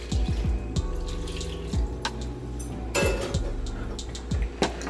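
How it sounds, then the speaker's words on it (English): Water poured and splashing into a bowl of salt cod fish cake batter, irregular trickles and splashes with a few sharp knocks of utensil or bowl, close up and with no talking. "so just keep adding the water"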